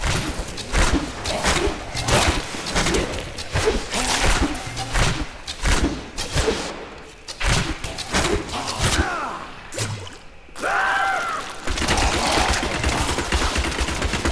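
Rapid repeated shooting attacks in Diablo 3 come as dense rhythmic bursts of loud thumping impacts, broken by brief pauses and game effects, with a voice heard briefly.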